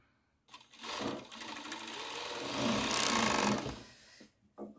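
A sewing machine stitches a folded bias strip into the seam of a fabric face-mask wipe, a fast close buzzing whir that starts, speeds up and runs for several seconds before stopping.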